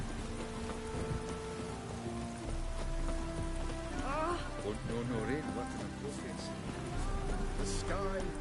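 Steady rain hisses across the whole scene in The Witcher 3, under a game voice speaking, along with a horse's clip-clop hooves and an occasional dragged swish.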